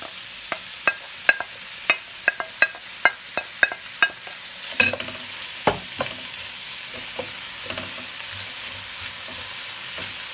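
Onions frying in a pan until golden brown, a soft sizzle under a run of sharp, evenly spaced clicks of a spoon against the pan that give way to looser stirring scrapes, close by with no voices.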